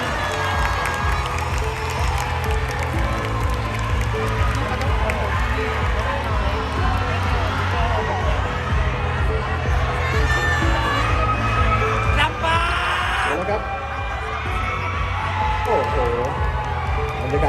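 A crowd of supporters inside the Central Khon Kaen shopping mall hall cheers and shouts continuously and loudly at a Miss Grand Khon Kaen pageant announcement, with a host's voice amplified over the noise.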